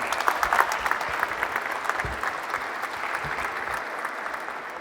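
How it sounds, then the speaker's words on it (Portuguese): An audience at the welcome session of a job and training fair in Fundão claps in a sustained round of dense applause, strongest at the start and slowly thinning, without speech. "Uma salva de palmas."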